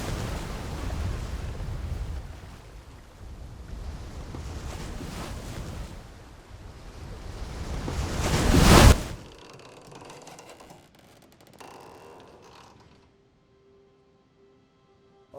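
Strong wind and breaking sea waves roar loudly at sea, swelling to a peak before cutting to quieter, fainter rumbling and near silence.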